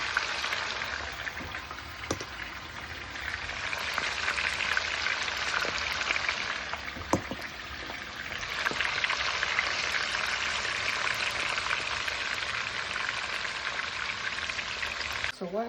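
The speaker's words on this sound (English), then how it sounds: "So while the chicken are frying," Chicken sears in a pan with a continuous crackling, spitting sizzle that holds steady throughout, broken by a few sharp pops and light clicks.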